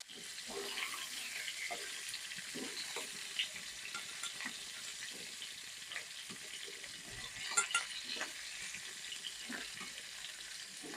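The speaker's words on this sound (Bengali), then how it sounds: "এবারে আমি ভেজে রাখা আলু ফুলকপি এর মধ্যে দিয়ে দেবো" Fried potato and cauliflower added to a hot pan with a whole-cumin tempering, a faint continuous sizzle with light stirring scrapes and a couple of louder clinks.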